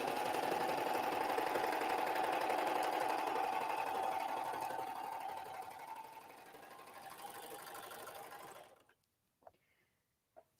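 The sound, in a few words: Baby Lock Accolade serger sewing a chain stitch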